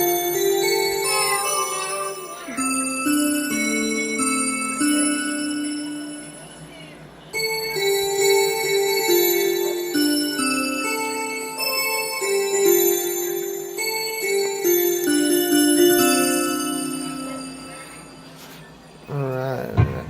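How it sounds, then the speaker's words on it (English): Bell voice played on a Yamaha PSR-S975 arranger keyboard: sustained, ringing struck-bell tones in a shifting melodic sequence, bright and full, heard alone for about twenty seconds with no talking. "it's a bell."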